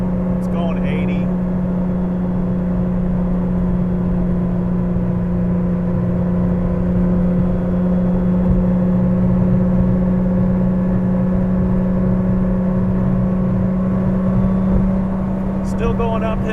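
A 1983 Porsche 911 Safari engine accelerating at half throttle uphill: a steady, loud droning hum with a constant tone and faint rise, heard from inside the car throughout, no talking.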